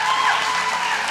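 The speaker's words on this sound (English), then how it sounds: "give her a huge round of applause" Dense, steady applause from a church congregation fills the whole moment, a loud continuous wash of many hands clapping with no single claps standing out.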